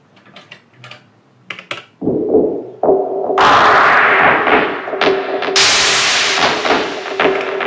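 A clap sound from an Elektron Machinedrum that sounds nothing like a real clap: scattered clicks give way to a loud, sustained noisy burst with shifting, swelling texture, alone and up close.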